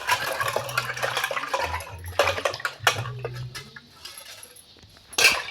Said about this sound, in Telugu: మళ్ళీ దీన్ని కడుక్కోవాలి వాటర్లో.